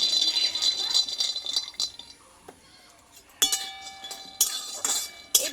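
In-shell peanuts are dry-roasted in a hot wok on a lit stove, giving bright rattling bursts as they are tossed, with a quieter gap in the middle, close by.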